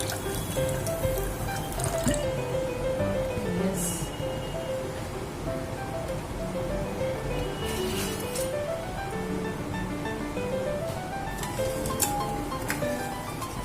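Water pours and trickles into a pot with sugar in a steady stream, with faint splashes and occasional clinks, fairly close and continuous.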